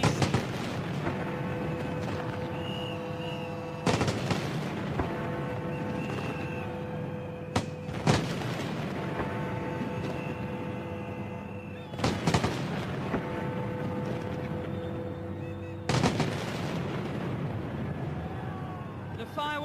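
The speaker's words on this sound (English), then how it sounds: "Fireworks have started," New Year fireworks burst over London, with deep booming explosions every few seconds rolling over a continuous bed of music and crowd noise.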